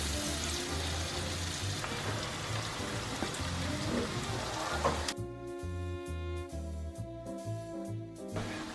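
Onion sizzles in a pan while veal scallopini is being cooked, a steady crackling hiss heard close up that continues faintly under a rhythmic musical beat in the second half.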